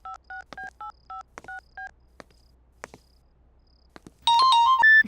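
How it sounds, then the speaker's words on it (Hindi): A phone is dialed with a quick run of clear touch-tone beeps, followed by a few faint clicks and then a loud burst of ringing tones. "सिमरन को फोन करता हूँ।"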